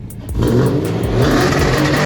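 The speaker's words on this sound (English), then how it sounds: "It's a BMW 6 Series from 2006. It's a 5-liter petrol." A 2006 BMW 6 Series with a 5-litre petrol engine revs loudly and close by, a deep steady roar building after a brief quieter start and holding for about two seconds.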